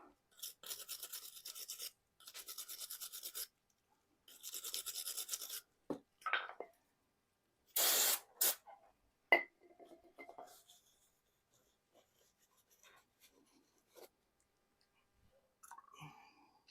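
Nissan Altima front brake caliper parts are scrubbed clean in short, rasping bursts of brushing, several strokes separated by pauses, followed by quieter scattered scrapes and clicks.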